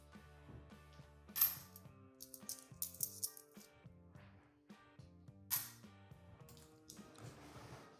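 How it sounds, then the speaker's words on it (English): Pennies dropping into the slots of a table saw miter sled, clinking with metallic rattles in a quick irregular series, close and fairly quiet. "right now I am putting some pennies in the slots to raise the wood above the table saw base"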